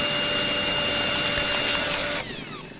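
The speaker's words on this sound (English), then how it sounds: "The drill made a loud grinding sound as the bit struggled to pierce his skull." A power drill grinds loudly and steadily, a high whining buzz with a rough texture, then winds down toward the end.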